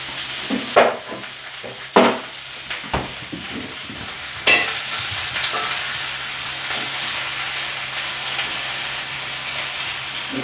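Onions fry in a pan with a steady sizzling hiss, punctuated early by several sharp clattering knocks of stirring against the pan, then settling into continuous close frying with no voices.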